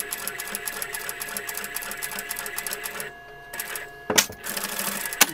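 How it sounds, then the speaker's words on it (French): A sewing machine stitches a small fabric Christmas treat basket with a fast, even mechanical whir of stitches, stopping briefly before a few clunks and a restart. "je fais une deuxième couture"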